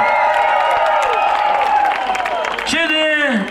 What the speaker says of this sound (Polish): Wielkie brawa dla Romka!